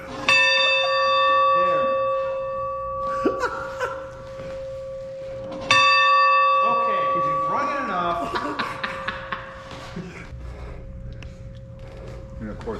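A bell is struck twice, each ring sustaining a clear, humming tone that slowly fades, with voices and laughter between and after the strikes.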